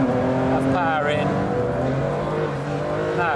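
A Ferrari Enzo accelerates hard on a race track with traction control switched off, its engine note climbing loudly through the revs and passing close, with a voice audible over the roar.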